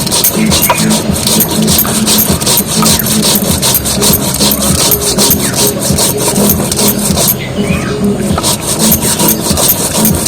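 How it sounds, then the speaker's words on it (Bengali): Raw cumin seeds are ground into paste on a grinding stone in a Bengali kitchen, a loud, continuous, rhythmic scraping and rubbing close by, with no talk. "কাঁচা জিরে নিয়েছি, এবার এগুলো বেটে নেবো"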